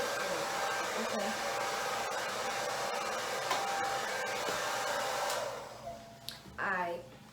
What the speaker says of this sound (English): You're gonna put the blow dryer on the cool setting and you're gonna go through your head.